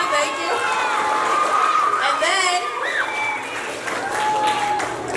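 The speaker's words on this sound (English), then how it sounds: "we're going to give a round of applause to all of our skate people and our cheerleaders" A school assembly crowd gives a round of applause, clapping mixed with cheering, whoops and children's chatter in a large room, while an adult voice speaks over it.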